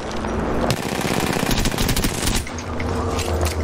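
Rapid automatic gunfire from a shooter video game, loud and sustained bursts of machine-gun fire with brief gaps, close and dominant throughout.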